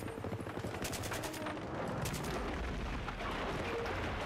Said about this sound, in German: Einfach immer auf die Lichter schießen.